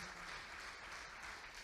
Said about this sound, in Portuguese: Você pode dar um glória a Deus e aplaudir o Rei Jesus?